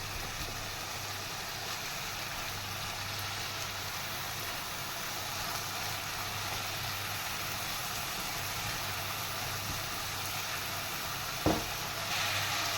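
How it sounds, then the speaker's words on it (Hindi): Sausages fry in a pan for Singapore-style rice, giving a soft, steady sizzle that holds evenly throughout, with a faint low hum beneath and a single brief clink near the end. "पाँच से 6 मिनट इसको ऐसे ही भूनेंगे।"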